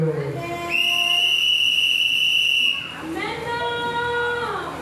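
A whistle blown in long sustained blasts, a bright steady tone holding for about two seconds, then a second wavering, sliding blast, loud and close amid a lively gathering.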